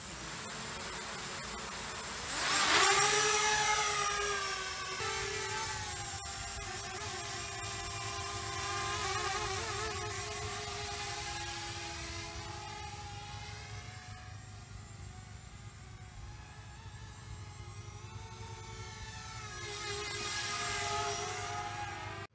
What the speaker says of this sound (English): we can give this drone a little test run